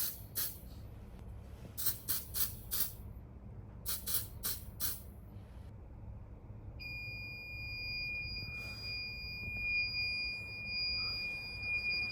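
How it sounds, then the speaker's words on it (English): A ceiling-mounted smoke alarm in a garage chirps in a series of sharp, high-pitched bursts during a fire alarm system test, then settles into a continuous shrill electronic tone against a low background hum. "Now we have a high up smoke detector up here."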